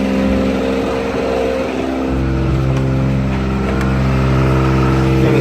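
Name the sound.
Kubota pony motor running on forestry bucket truck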